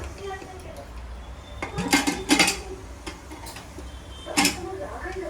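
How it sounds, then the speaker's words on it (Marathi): Metal clanks and rattles of a pressure cooker lid being handled and pulled open, a few clustered clatters among quiet talk nearby. "ओके डब्बा खोललेला आहे सॉरी कुकर खोल गया आहे"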